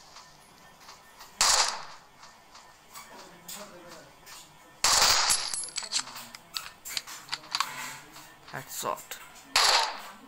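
Gunfire in the shooter game Hopeless Land: sharp, loud bursts of shots around three moments, with smaller clicks and effects between, under someone talking throughout.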